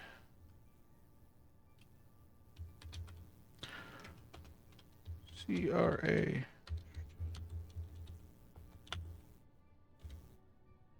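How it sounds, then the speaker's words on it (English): Someone types on a computer keyboard in quick bursts of soft clicks, entering a GPS marker while playing Space Engineers, with a person talking over parts of the typing. "My typing."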